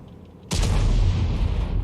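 A T92 HMC artillery shell fired in a tank video game, a single sudden loud boom followed by a sustained rumbling roar.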